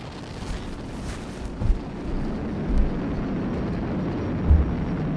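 Falcon 9 rocket carrying a crewed Dragon capsule, heard about twenty seconds after liftoff: a steady, broad, rumbling roar with a few deeper low booms rising out of it, loud and continuous, with no voices.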